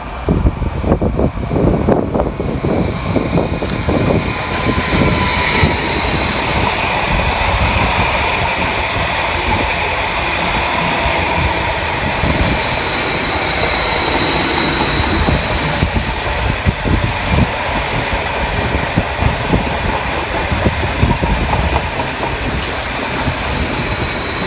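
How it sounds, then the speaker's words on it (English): A Greater Anglia Class 745 train, the Norwich to London Liverpool Street service, pulls into a station with a loud, close, broadband rumble and rattling wheel clatter, with occasional high squeals. "Next to arriving to the station, the 12:30 Greater Anglia service from Norwich through to London Liverpool Street."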